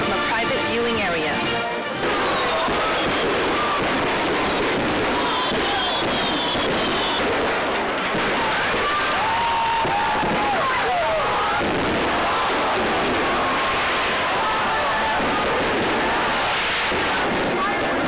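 A fireworks show from a private viewing area: dense, continuous booms and crackles, loud and sustained throughout, with voices mixed in.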